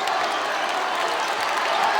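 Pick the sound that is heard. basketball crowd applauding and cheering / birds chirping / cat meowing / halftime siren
basketball crowd applauding and cheering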